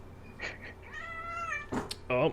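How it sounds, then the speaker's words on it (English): A pet cat indoors gives a drawn-out meow, followed by a short louder cry and a quick voiced sound at the end, close and moderately loud against a quiet room. "did you hear my kitty?"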